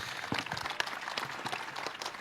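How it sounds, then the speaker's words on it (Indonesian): An audience applauds at a formal speaking event: a short burst of steady, close clapping from many hands, with no talk in the clip. "Tepuk tangan Suparman Marzuki."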